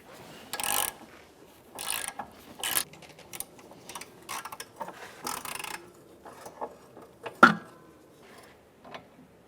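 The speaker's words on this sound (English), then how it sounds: "we should be able to get on there with a 14mm ratchet." A 14mm ratchet clicks in short bursts while loosening a rear sway bar link nut on a 2007-2013 Acura MDX, quiet metallic ratcheting separated by brief pauses, with a sharp knock near the end.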